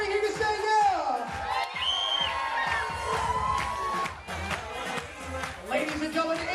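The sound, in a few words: wedding guests cheering and shouting yeah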